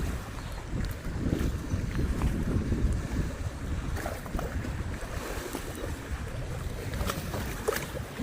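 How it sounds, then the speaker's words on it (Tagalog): Steady wind buffets the microphone in low rumbling gusts at a lake in Switzerland, with lapping water and a faint engine-like drone underneath, no talking. "Medyo mahangin."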